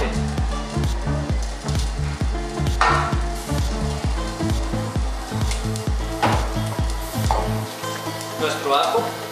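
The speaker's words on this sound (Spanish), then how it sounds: "Vamos a sofreír nuestra cebolla, cantidad suficiente." Onion sautéing in a pan, a continuous close sizzle with occasional stirring scrapes, under a regular pulsing background rhythm that runs throughout.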